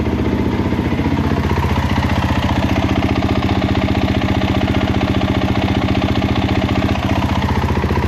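A Kawasaki KX450 dirt bike engine idles loud and close with a rapid, steady throbbing pulse that continues unbroken throughout.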